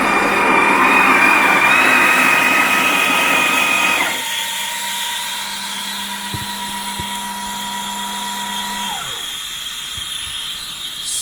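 A Breville Oracle Touch espresso machine runs loudly up close, a steady mechanical whir and hum that drops to a quieter tone partway through, then winds down near the end.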